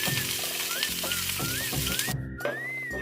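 Onion frying with ginger and garlic in coconut oil for a sardine curry, a continuous close sizzle under music with gliding tones and steady beats.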